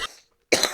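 Two quick coughs, close and loud, separated by a brief silence.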